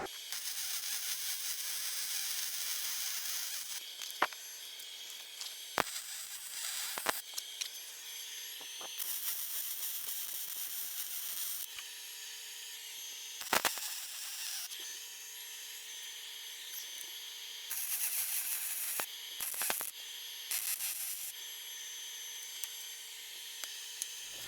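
Welding a shock mount on a Jeep XJ produces sustained buzzing, crackling hiss in several long bursts, separated by brief pauses and sharp clicks, close and steady.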